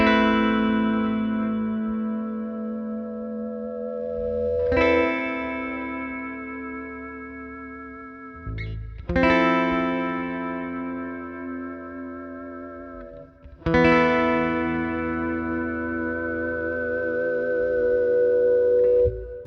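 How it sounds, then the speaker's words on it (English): Electric guitar with a Sustainiac sustainer played through the Neural DSP Archetype Rabea plugin on a clean tone with effects, three long swelling chords ringing out with heavy sustain, chorus and echo, each new strum near and loud, no talking. "I want to hook up the Sustainiac, and let's see what it sounds like with it."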